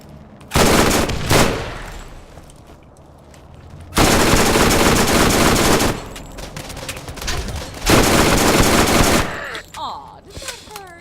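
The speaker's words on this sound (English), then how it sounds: "The bullets hit hard enough to make him flinch, even when they just hit his shield." Gunfire strikes an enemy's shield in Borderlands, coming as three loud automatic bursts separated by quieter gaps, with faint game ambience between them.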